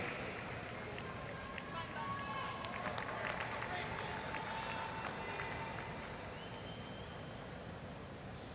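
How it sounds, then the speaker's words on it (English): Crowd at a 2024 US Open first-round tennis match between Priscilla Hon and Aryna Sabalenka reacting during a long rally: a steady murmur and rising cheer with scattered claps and whistles, fairly loud and continuous throughout. "Wow, you can hear the crowd reacting."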